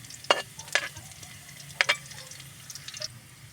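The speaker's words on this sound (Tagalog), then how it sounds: "Gisarit ko og ahos guys." Garlic sautéing in a pan for a papaya dish, with a few sharp scraping and stirring clatters over a faint steady sizzle, close and fairly quiet, no talking.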